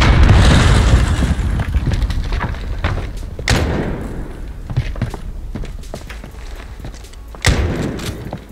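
A grenade explodes in Call of Duty: Warzone realism duos, heard as two heavy booming thuds a few seconds apart over steady game ambience, with rumbling noise at the start.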